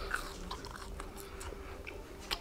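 Someone chews French fries close to the mic, with soft crunching and wet mastication sounds repeating steadily over about two seconds, no talking.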